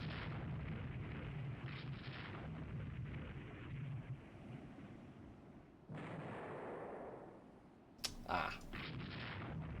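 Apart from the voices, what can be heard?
torpedo or mine explosion in Rule the Waves 3 video game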